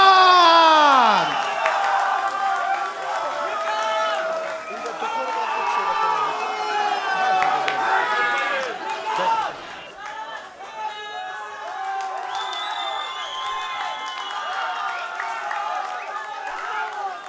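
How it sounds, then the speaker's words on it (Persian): A fight-night crowd at an Afghan mixed martial arts event cheering and whooping for fighter Wahedullah Nazhand, a steady roar of voices held for the whole stretch while an announcer talks over it. "تشویقا زیاد از واحد الله نژند"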